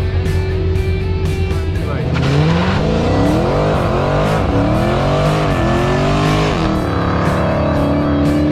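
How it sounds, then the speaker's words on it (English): A car doing a burnout, its engine droning and revving in rising and falling sweeps while tires scrub and squeal, loud and close throughout with sustained roaring noise. "He wanted to do a burnout, so I want to do one more burnout."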